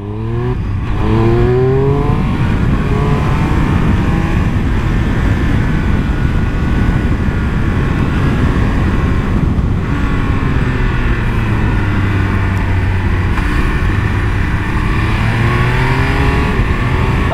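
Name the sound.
Triumph Speed Triple 1200 RR motorcycle accelerating on Ascari circuit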